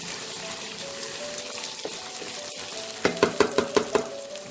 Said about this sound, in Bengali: টমেটোটা দিয়ে ভালো করে নেড়ে নিয়ে